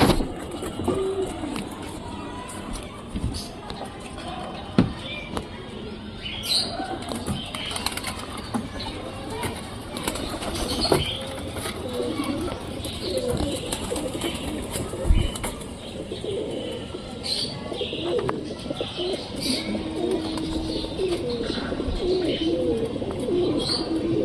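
A pigeon coos and flaps its wings nearby amid ambient background noise. The soft repeated coos and occasional wing beats run under intermittent talking.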